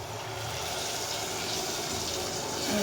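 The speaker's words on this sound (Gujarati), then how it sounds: "એક ગ્લાસ આપણે પાણી નાખશું." A glass of water poured into a pan of onion potato curry, a steady close rush of liquid lasting a few seconds, fairly loud and alone.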